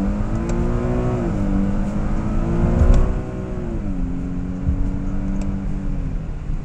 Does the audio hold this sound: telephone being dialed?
no